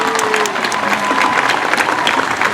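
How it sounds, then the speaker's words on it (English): Dense audience applause at a sea lion and seal show at Hersheypark, steady and fairly loud, with whistles and cheers mixed in. "Can we give him a great big round of applause?"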